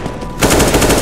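Rapid automatic gunfire from the game CS:GO in its Zombie Escape mod bursts in loudly after a brief quieter moment, a dense continuous rattle of shots.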